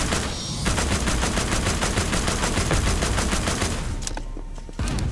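Sustained automatic gunfire in The Walking Dead: Destinies video game: a dense, loud, rapid string of shots lasting several seconds that cuts off abruptly near the end, leaving quieter game sound.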